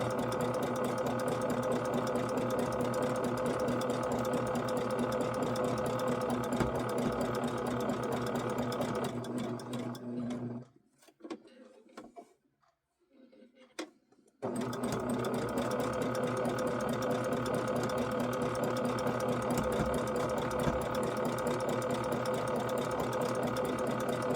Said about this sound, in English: let's stitch down across this bottom edge